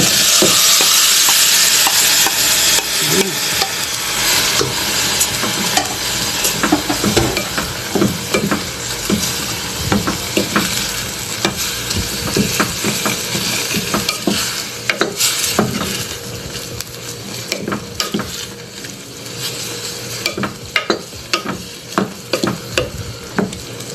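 Boiled mung beans being stirred into a browned sauté in a pan, loud sizzling at first easing into repeated scraping and utensil clatter against the pot, close and uninterrupted.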